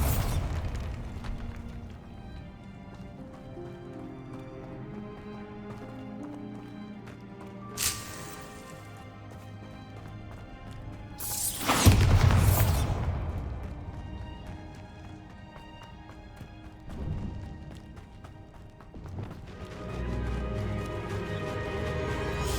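A Bombarda blasting spell goes off in Hogwarts Legacy, a single loud burst near the middle of the clip over a steady bed of game music and ambience, with a smaller crack a few seconds earlier.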